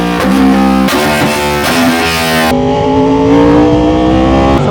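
Yamaha R1 WGP motorcycle with a remapped ECU, its engine revving hard and close, with a rising, snarling howl that surges and climbs in pitch over several seconds, loud and continuous with no talk.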